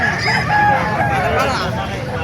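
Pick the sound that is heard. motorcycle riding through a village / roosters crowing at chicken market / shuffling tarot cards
roosters crowing at chicken market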